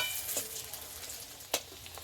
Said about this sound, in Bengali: কিছুক্ষণ ধরে ভাজতে হবে এটাকে। পকোড়ার একদিকটা ভাজা হয়ে গেছে,